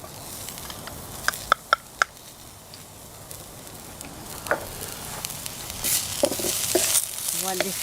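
Garlic sizzles in a hot pan over an outdoor off-grid cooking setup, a soft steady frying hiss with a few sharp taps and clatters of utensils, rising to a brighter crackle near the end.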